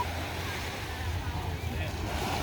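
Waves washing onto a sandy beach at Antibes on the French Riviera, a soft continuous surf wash mixed with wind buffeting the microphone, moderately faint and steady.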